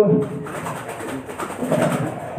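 A pelung turtledove coos in low, soft, rolling notes, with background noise and faint voices around it.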